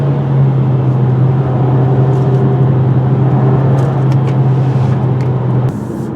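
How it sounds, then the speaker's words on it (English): A 2018 Hyundai Kona's turbo engine pulls steadily uphill, with a constant low hum and road noise heard from inside the cabin that ease off near the end. "this turbo engine's really pulling the weight with no problem at all"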